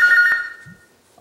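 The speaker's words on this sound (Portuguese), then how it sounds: "Seu telefone, amor. Seu telefone." Mobile phone ringing at home, a loud, close, bright electronic ring tone with a sharp knock partway through, fading out and leaving near-silence with a faint brief sound at the end.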